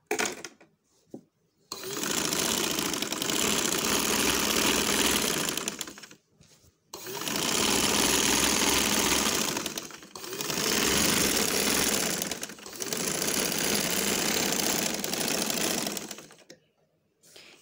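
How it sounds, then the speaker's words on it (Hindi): A sewing machine stitches a seam in cloth, running in four loud, continuous whirring bursts separated by brief pauses. "अब ये सिलाई हम तीसरी इस साइड पे शुरू करते हैं दोबारा"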